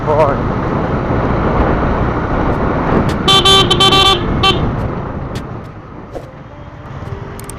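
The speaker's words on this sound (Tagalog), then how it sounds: "Stock horn." Stock horn of a Yamaha R15 V3 motorcycle, a loud honk of about one second standing out over steady traffic and engine noise outdoors, with people talking nearby.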